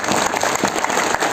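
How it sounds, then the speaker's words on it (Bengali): Audience clapping at a Bangladeshi political gathering, a steady, dense burst of applause from a crowd filling the short moment without speech. "তার জন্য একটা তালি হোক"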